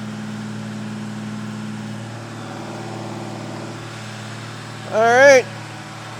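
A freshly installed Mopar 440 V8 runs steadily through cam break-in, a constant low engine drone under brief speech, with a short rising whine or voice burst near the end.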